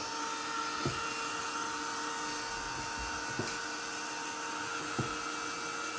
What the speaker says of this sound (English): I'm going to use the heat tool here.